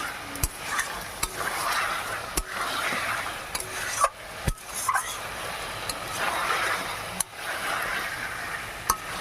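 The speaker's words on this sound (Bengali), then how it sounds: "আলু দিয়ে ভালো করে নাড়াচাড়া দিয়ে জল দিয়ে দেবো" Potatoes being stirred in a cooking pot with a utensil, giving a scraping, rustling churn under a low sizzle, with sharp metallic clinks against the pot roughly every second or two.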